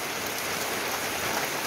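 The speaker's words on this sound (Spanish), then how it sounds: "miren, está lloviendo." Rain falling steadily and densely outdoors beside a cornfield, a loud, continuous hiss of drops with no pauses and no voices.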